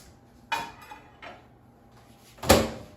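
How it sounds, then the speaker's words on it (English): A plantain in its skin is set into a microwave oven, giving two light clunks about a second apart and then a louder thud of the door or tray, all close by with no talk. "So now let's put it in the microwave."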